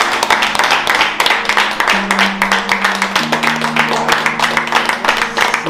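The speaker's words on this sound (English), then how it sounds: "So we'll give him a round of applause." A group claps in a round of applause at a gathering in Trench Town, with dense, steady hand claps and steady low droning tones underneath.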